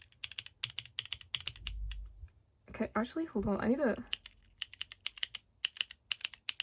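A single keyboard switch from K-pop album merchandise clicks in rapid, crisp bursts, close and fairly loud, pausing while a person speaks briefly before the clicking resumes.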